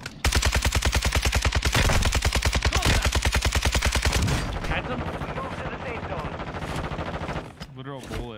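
Video game gunfire: a long burst of rapid automatic fire, loud and close for about four seconds, then scattered quieter shots and distant firing with voices talking over it.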